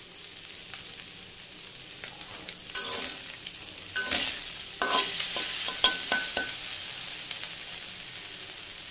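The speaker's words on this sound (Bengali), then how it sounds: "মাছগুলো একটু ভালো করে ভেজে দিলাম" Fish frying in a pan of hot oil, a constant close sizzle that swells as pieces are moved, with intermittent scrapes and clatters of a spatula against the pan.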